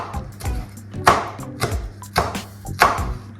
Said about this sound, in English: just really finely slice like that